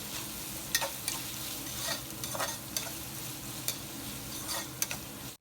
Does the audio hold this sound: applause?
no